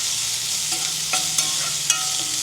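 Cluster beans curry with green chillies, onions and salt frying in a pan, a steady sizzle with a few soft scrapes of stirring, close and fairly loud with no voices.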